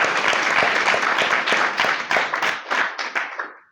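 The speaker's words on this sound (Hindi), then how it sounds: "इनके लिए जोरदार तालियां हो जाए दोस्तों।" Audience at a public speaking seminar breaks into loud, steady clapping that fills the room, a dense burst of many hands that thins out toward the end.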